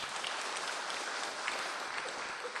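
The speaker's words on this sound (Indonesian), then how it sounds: "Tepuk tangan dong." A large audience at a spiritual talk breaks into steady applause, a dense, even wash of many distant hands clapping together without pause, fairly faint and uniform throughout.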